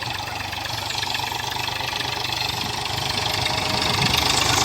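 A tractor engine runs steadily close by, a continuous rough chugging drone that holds even and grows slightly louder toward the end, with no talking.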